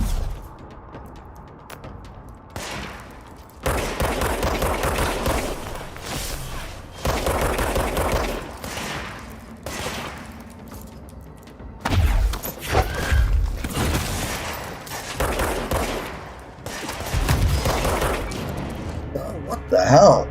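Enemy gunfire in the game Control arrives in loud, irregular bursts of rapid shots with thumps and crashes, separated by brief lulls.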